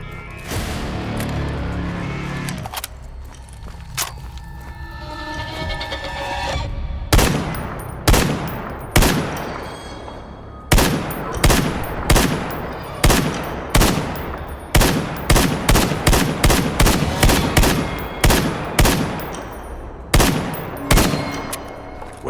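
Rapid automatic gunfire from the video game STALKER: GAMMA, loud bursts of sharp cracks in quick succession, preceded by a stretch of rumbling ambience and a few scattered shots.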